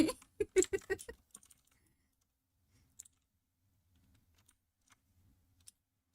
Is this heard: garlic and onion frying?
no